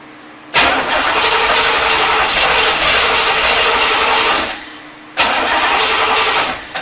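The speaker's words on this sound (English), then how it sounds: "It starts up for a second and then automatically dies." A 1985 C4 Corvette with a suspected fuel problem cranks and catches, runs loud and rough for several seconds, dies away, then fires up briefly again, all close by with no talk.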